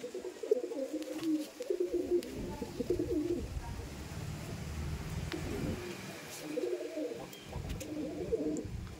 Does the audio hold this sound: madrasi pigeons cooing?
yes